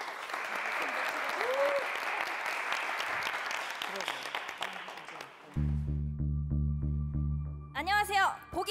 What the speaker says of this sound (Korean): 박수로 함께 해주시죠.